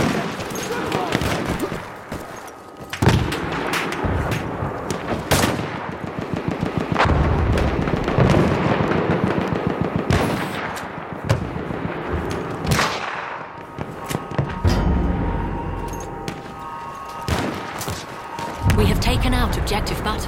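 Enemy artillery barrage in the video game Battlefield 1, loud booming impacts and rattling gunfire piling up continuously with heavy low rumble, while voices talk over the battle.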